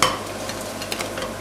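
Croutons being stirred in butter in a pan, giving a soft, steady sizzle with light scraping stir strokes, close and moderately quiet.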